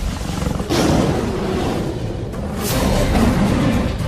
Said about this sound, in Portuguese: O rugido de um leão não é apenas ouvido, ele é sentido também.